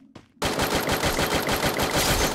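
Rapid automatic gunfire in the video game Garena Free Fire bursts in after a brief quiet moment and continues as a loud, dense stream of evenly spaced shots.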